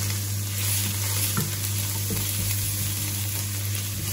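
Garlic sizzling in olive oil in a pan for Moroccan zaalouk, a steady close crackling fry with a faint stir partway through and a low hum behind it, no voices.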